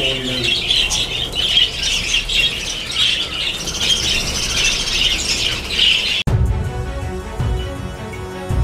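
Around a hundred pairs of budgerigar parrots in Karachi give a dense, continuous chorus of shrill squawks and chirps as they are let out of a cage, loud and busy throughout, breaking off abruptly into other noise near the end.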